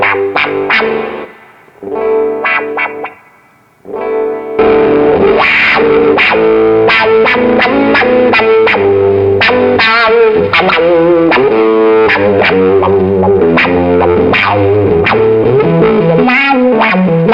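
An electric guitar through an Octavia octave fuzz pedal plays loud, close funky riffs with a buzzy doubled-octave edge, a few sparse phrases and a brief gap before a busier, continuous passage.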